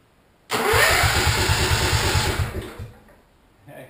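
A wood chipper's engine, powered by super capacitors, cranks loudly and close with a fast rhythmic chugging for about two seconds, then winds down into quiet.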